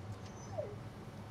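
Dog whimpering in Resident Evil 4 Remake, a single faint, brief whine rising out of a low ambient game background.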